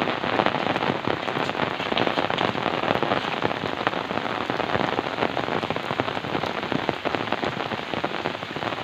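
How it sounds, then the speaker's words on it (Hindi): Heavy monsoon rain pours down steadily in Gaddopur, Prayagraj, amid flooding, a dense hiss of drops pattering on surfaces close by, with no talking. "गद्दोपुर में बारिश होते हुए क्या करा जाए, बाढ़ आ गया है"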